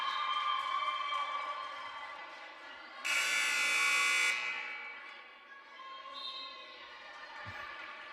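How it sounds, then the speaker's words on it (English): A scorer's buzzer at a basketball game blares once for over a second, loud and harsh above the hum of the gym. "our scorer just went ahead and rang the buzzer for us"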